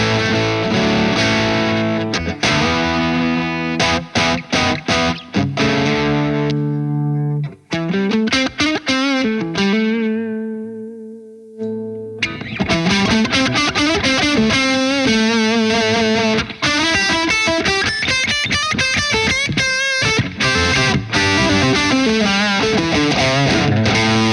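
Electric guitar through a Carl Martin Plexi overdrive pedal plays crunchy chords and single-note lines, loud and gritty, with brief pauses and sustained notes ringing out; no talking.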